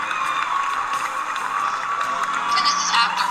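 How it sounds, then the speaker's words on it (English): Oscars ceremony audience applauding and cheering in a played-back recording, a dense continuous wash of clapping and crowd noise at moderate level with a few whoops, no lulls. "Everybody's clapping"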